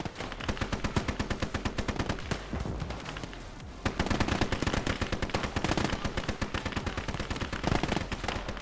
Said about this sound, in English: 4 or 5 57mm guns doing all the hard work.